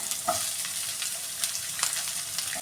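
Shallots and onion drop into a frying pan for a raw banana stir fry, a dense close sizzle with a few faint stirring taps on top, no voices.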